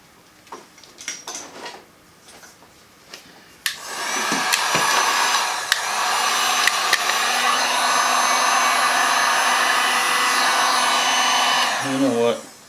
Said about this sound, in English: I'm going to blow that around with my heat gun